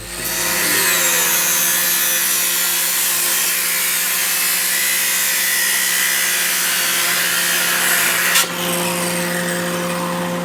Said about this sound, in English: So we'll get that cut apart and sized up.